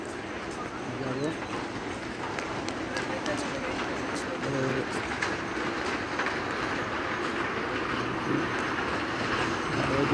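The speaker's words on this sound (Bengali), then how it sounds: "ওইদিকে দেখেন ট্রেন যাচ্ছে" A train passes at some distance with a steady rumble and rhythmic clickety-clack of wheels on rails, plus faint squeals, while people talk nearby.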